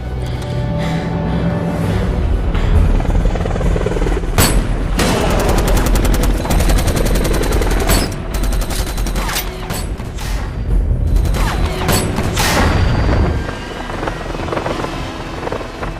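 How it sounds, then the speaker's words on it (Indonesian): Loud, rapid bursts of machine gun fire from a helicopter crack repeatedly over its steady rotor roar, dense and close throughout. "Sayangnya mereka terlebih dahulu dihujani oleh peluru helikopter itu."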